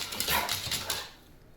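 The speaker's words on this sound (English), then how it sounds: "I made the MP3s first by recording with my cell phone a video of our dog barking at the door." A pet dog barks at a door, captured on a cell phone: a quick run of sharp, fairly loud barks over about a second, then trailing off into quiet.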